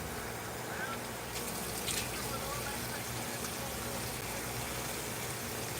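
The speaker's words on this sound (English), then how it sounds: "So I'm gonna wash it off some more." Tap water runs steadily and close by while someone washes their face before bed, a continuous broadband rush with a brief louder splash near the middle.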